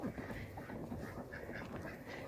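Several poultry-yard ducks quack in a faint, continuous chatter around a waterer, with no one speaking.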